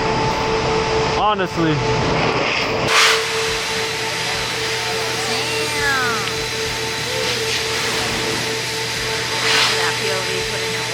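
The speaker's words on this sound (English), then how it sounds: "Mainly for this blow dryer, bro." A car wash blow dryer drying a 2021 Toyota Supra, a loud, steady rush of blown air, a constant roaring whoosh with a brief voice speaking near the start.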